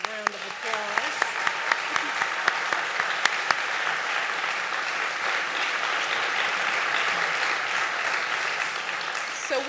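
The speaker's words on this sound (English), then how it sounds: "Let's give them a round of applause." An audience applauds young dancers at a White House dance event, a steady wash of many hands clapping with a few sharp individual claps and some voices mixed in.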